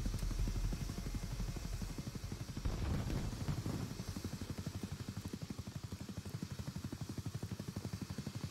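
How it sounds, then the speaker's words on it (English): A helicopter in the video game BattleBit Remastered drones steadily with a fast, rhythmic rotor chop and a low engine rumble, loud and continuous throughout. "Is that you with the helicopter?"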